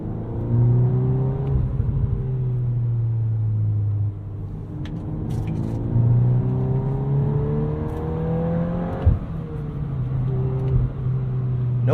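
Engine of a 2022 Volkswagen Golf R with a six-speed manual, heard from inside while driving, droning and rising in pitch as it revs, dropping between gears with no lingering hang, loud and continuous.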